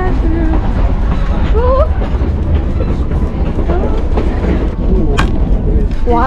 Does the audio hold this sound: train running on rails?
yes